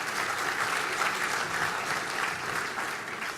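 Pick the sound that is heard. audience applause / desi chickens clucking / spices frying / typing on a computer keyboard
audience applause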